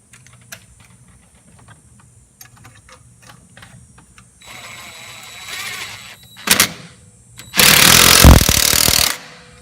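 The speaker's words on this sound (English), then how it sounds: "Clamping this back down onto the turbo here. Let me get my impact." Impact wrench tightening a clamp back onto the turbo during a 7.3 Powerstroke intake manifold install, a short burst followed by a louder, sustained rattling run of about two seconds, close by and alone.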